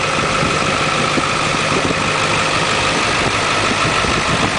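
A Ford F-350 Super Duty crew cab long box with the 7.3-liter Power Stroke diesel idles steadily, a constant close-up clatter and rumble with no talking over it.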